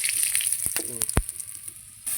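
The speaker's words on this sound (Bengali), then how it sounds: "এবার আলুগুলো ভাজছে। এবার আলুগুলো খুব সুন্দর করে ভেজে নাও।" Potatoes frying in a pan during home cooking, a steady close sizzle and crackle broken by a few sharp clinks of a utensil against the pan.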